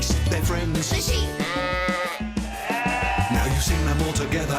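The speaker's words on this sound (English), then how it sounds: "The sheep." Sheep in a farm cartoon bleat several times in quick succession, loud and up front over a busy musical backing.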